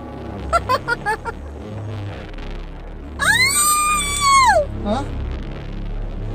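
A woman's sharp, rising scream rings out loud and close for about a second and a half, following a few short clipped vocal bursts, with faint background noise throughout.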